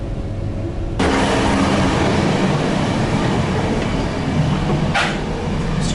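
A train runs from Zagreb to Maribor in Slovenia, its steady loud rumble and rattle filling the carriage after a quieter start, with a brief hiss burst near the end.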